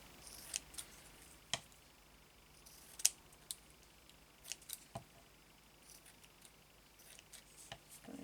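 Scissors trim fabric for a journal pocket in a quiet room, making several small, crisp snips spaced irregularly, faint and close.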